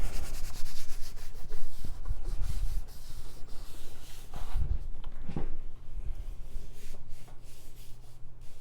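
Paper is rubbed and pressed down onto adhesive on an altered craft box, a soft continuous scuffing and rubbing at close range with a few brief bumps, no voices.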